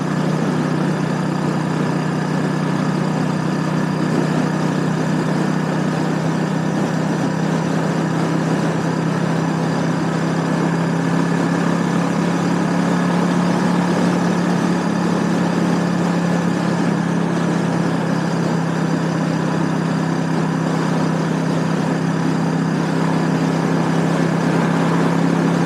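A Suzuki S40 Boulevard motorcycle rides along with a steady, loud single-cylinder engine drone and constant wind rush, unbroken for the whole stretch.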